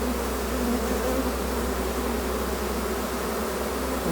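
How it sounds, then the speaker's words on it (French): A honeybee swarm being collected, with bees fanning their wings, makes a dense, continuous buzzing drone that stays loud and close throughout, with no voices. "Vous voyez là, les abeilles avec le derrière relevé, qui battent des ailes."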